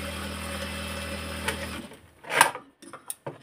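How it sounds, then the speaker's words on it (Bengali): A sewing machine stitches the sleeve cuff of a georgette kameez, running steadily and fairly loud for nearly two seconds before stopping, followed by a few light handling clicks and rustles. "এখন হাতার মোহরিটা সেলাই করব।"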